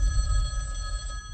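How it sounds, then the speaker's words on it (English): A telephone bell rings steadily in a tense dramatic scene, its bright tones sustained across the whole moment over a low rumbling background. "that phone over there is gonna ring"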